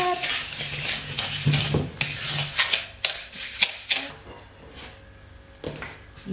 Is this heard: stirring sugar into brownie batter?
yes